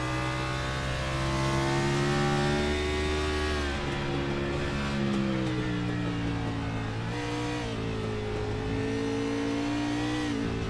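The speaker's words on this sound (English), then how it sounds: "These guys are definitely shifting out there, as you can hear." Race cars on the Circuit of the Americas track in the iRacing sim racing game rev loudly, their engine pitch climbing and then dropping with each gear shift. The roar is constant and dense, with no voices.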